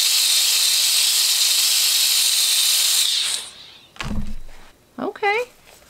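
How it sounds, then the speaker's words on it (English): A clothes steamer blasts a loud, continuous hiss of steam onto synthetic wig fibers for about three seconds, then cuts off, followed by a soft thunk and brief voice sounds. "One more hit of steam."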